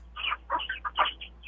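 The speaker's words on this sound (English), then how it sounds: "I hear the chickens." Chickens cluck in a quick series of short, choppy calls heard over a phone line, moderately close with a faint low hum underneath.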